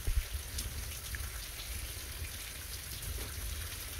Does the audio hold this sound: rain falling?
yes